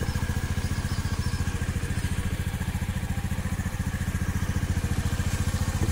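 A Honda Activa scooter with a freshly cleaned spark plug runs with a loud, close, rapid putter, its steady pulsing beat holding evenly throughout with no voices.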